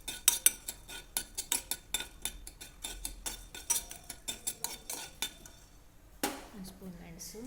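A spoon stirs a spoonful of black pepper dry-roasting in a pan for paneer pepper fry, making quick, close rhythmic metallic scrapes and clinks against the pan, ending in a single louder knock.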